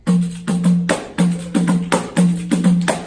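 A pandero frame drum played in a steady, repeating rhythm that mixes deep open tones, sharp slaps and lighter taps, heard close and loud with no talking.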